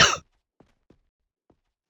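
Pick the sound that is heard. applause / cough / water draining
cough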